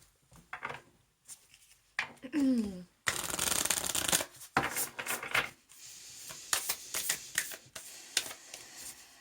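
Sacred Destiny Oracle cards are shuffled in several bursts of crisp riffling and slapping, close and loud, with quieter handling noises between the bursts.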